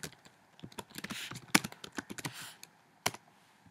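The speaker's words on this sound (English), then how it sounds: "Now you can type in whatever you want." Quick clicking keystrokes on a computer keyboard come in uneven bursts, close and fairly quiet, with a few sharper key presses and no speech.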